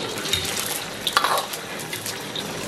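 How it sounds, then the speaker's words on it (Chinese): Thousand-layer tofu frying in oil heated to a low-medium temperature in a wok, giving a soft steady bubbling sizzle with a few faint clinks of utensils against the pan. "炸至千叶豆腐飘起"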